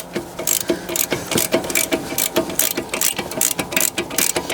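A ratchet on an extended handle removing 18mm bolts during a front CV axle replacement on a 2005-2010 Chrysler 300, rapid close clicking pawl bursts in repeated strokes, with no talking.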